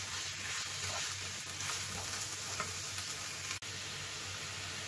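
Chicken breast and mushrooms being mixed in a hot pan give a soft, steady sizzle with faint stirring, plus one sharp click near the end and no speech.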